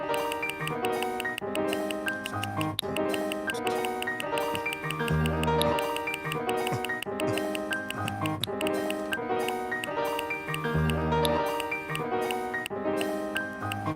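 Rapid, evenly spaced metronome ticks from an EPS 16 Plus sampler run steadily over a band playing, the clicks sharp and quick in a continuous sixteenth-note rhythm.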